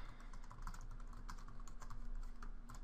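Continuous computer keyboard typing with steady, close clicks and taps at a brisk uneven rhythm, no voices, for about three seconds.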